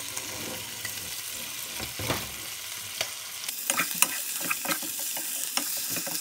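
Softened oxtail being sautéed in a pan, a continuous close sizzle with a rapid run of clattering stirring and scraping strokes building toward the end.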